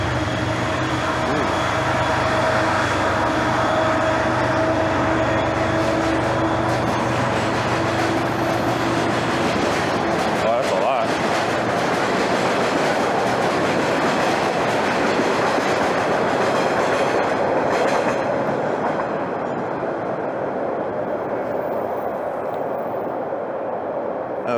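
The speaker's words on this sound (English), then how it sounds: "what you just heard there is basically about two sets of trains going by" Commuter rail and Amtrak trains rumble past close by in Boston's Southwest Corridor Park with a steady, loud roar and rhythmic clatter of wheels, fading slightly toward the end.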